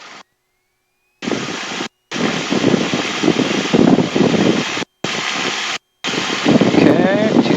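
A light single-engine airplane's piston engine runs up at 2,000 RPM before takeoff. The steady loud drone is broken by short silent cuts, and a voice speaks over it.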